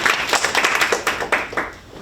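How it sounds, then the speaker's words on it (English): Audience applause for a speaker named Eunice at an academic conference, a dense patter of many hands clapping steadily for two seconds before thinning slightly toward the end. "Please give a round of applause for Eunice."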